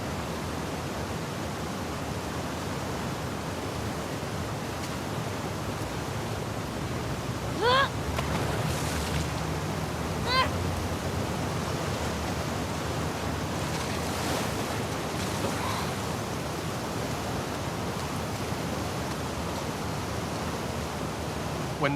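Ocean waves and rushing current in The Last of Us Part II surge as a steady, broad roar with faint swells and a few brief splashes, no speech.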